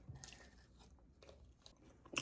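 A bite into a crunchy Dubai chewy cookie made with marshmallow, giving soft chewing noises and a sharp crunch near the end, with no talking.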